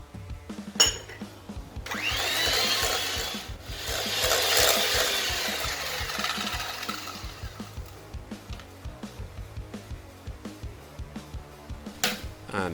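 Electric whisk creaming butter and sugar into a light, fluffy cake batter for sticky toffee pudding, a steady close whirring and scraping that swells for several seconds, broken by brief clatters.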